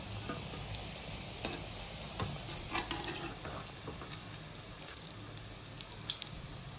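Arbi leaf pakoda rolls fry in hot oil in a kadhai, giving a soft, steady sizzle with small scattered pops and crackles. No one speaks.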